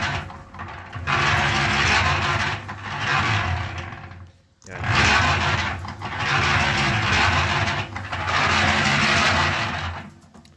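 A loud, rough rumbling churn runs in two long bursts with a brief drop between, like a Limex concrete mixer turning close by.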